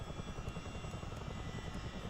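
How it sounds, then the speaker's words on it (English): The engines of a CH-47D Chinook in a flight simulator game keep up a steady rotor and engine drone as they begin to spool down, close and continuous, with no speech. "Fuel pumps off, and you hear the engine start to turn off."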